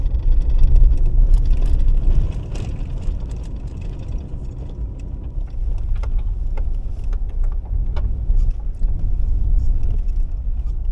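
A 4x4 van's engine drones steadily while driving at under 1500 RPM, a continuous low rumble with road noise, close and fairly loud for the whole stretch, with no talking.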